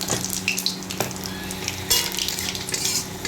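Dried red chilli and black cumin seeds spluttering in hot oil as the tempering for a Bengali potato, eggplant and hilsa curry, a close, steady crackling sizzle with a few sharper pops.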